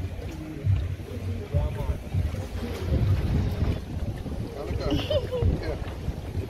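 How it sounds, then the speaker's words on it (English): Wind buffets the microphone during a boat ride off a Montego Bay resort, a steady rushing roar under an engine hum, while several people talk and call out over it. "It's the wind."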